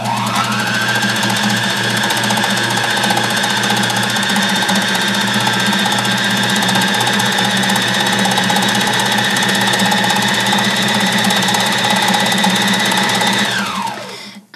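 An embellishing machine runs steadily, its needles punching fibres through felt and linen in a loud, continuous mechanical buzz with a high whine that holds level, then winds down at the end.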